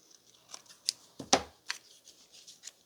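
Scissors trim a strip of folded scrap paper for bookmarks and page tabs, a few soft crisp snips and paper rustles, close and quiet, the loudest cut near the middle, with no talking.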